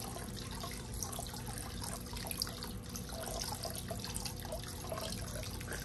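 Water siphons through a small tube, a steady low trickle and gurgle that stays faint and continuous throughout, with no talking.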